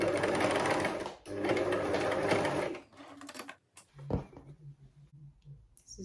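Sewing machine stitching folded turban fabric down, running in steady bursts with a short pause, then stopping; quieter handling noises follow.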